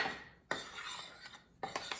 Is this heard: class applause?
no